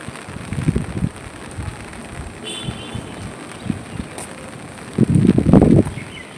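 Steady rain falls in a city among buildings, a soft continuous hiss with a few louder bursts of drops splashing on a surface close by, especially toward the end; no one speaks.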